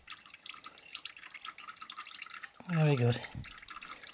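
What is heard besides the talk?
old engine oil from a Suzuki GSXR draining into a receptacle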